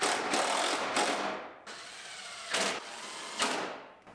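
A power tool drives bolts on a 2017 GMC Terrain Denali during bumper and headlight repair, several short whirring bursts with brief pauses between them, fairly close and clear.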